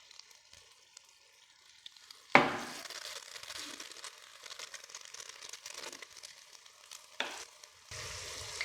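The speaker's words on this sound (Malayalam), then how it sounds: "ഇനി അടുത്ത ബാച്ച് നമുക്ക് ഇതേപോലെ തന്നെ വറുത്തെടുക്കാം." Wheat flour unniyappam frying in hot oil, a steady soft sizzle with a sharp burst as batter meets the oil and another brief flare later, otherwise quiet and close.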